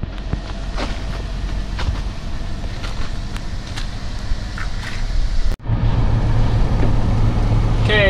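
A 9-inch lifted OBS Ford truck drives on slushy winter roads, its low engine and road rumble steady and close throughout, with a brief dropout partway before the drone resumes with a steady hum.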